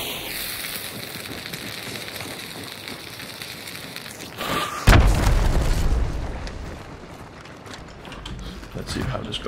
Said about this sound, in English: Alright, gonna throw some grenades.